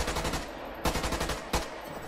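Rapid automatic gunfire from the Q ability in the video game Caliber, a loud continuous rattle of shots with two sharper bursts, close and steady throughout.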